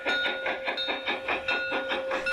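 Harz narrow gauge steam locomotive 99 236 in northern Germany, sounding its whistle with a sustained tonal blast over a rhythmic chuffing exhaust, regular beats repeating close and loud.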